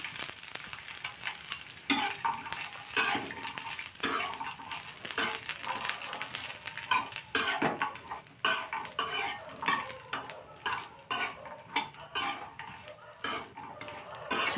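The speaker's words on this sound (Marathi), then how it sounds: "हिरवी मिरची भाजून घेणार आहोत. थोडेसे तेल टाकलेले आहे" Green chillies and coconut roasting in a little oil over medium heat, with steady close sizzling and repeated scraping and clinking of a spatula against the pan throughout.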